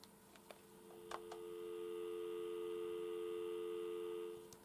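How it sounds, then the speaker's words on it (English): A steady telephone dial tone heard through a 1977 GPO Silver Jubilee compact telephone, preceded by faint handling clicks, then a constant low hum holding for several seconds before cutting off. "So there's the dial tone."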